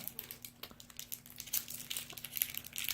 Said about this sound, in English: I can never get any packaging open